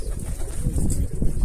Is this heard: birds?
yes